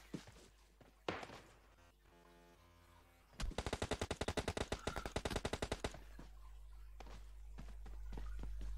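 Rapid automatic gunfire in the video game PUBG Mobile, a dense burst of close shots lasting a few seconds, between quieter thuds and movement noises.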